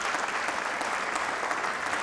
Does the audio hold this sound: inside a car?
no